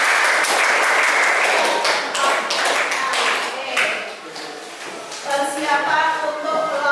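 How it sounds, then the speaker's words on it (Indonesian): A classroom audience at an agribusiness fisheries teacher-training session claps together, loud and dense at first, then thinning into scattered claps before a short voice comes in near the end. "Terima kasih kelompok 1, kita beri aplaus."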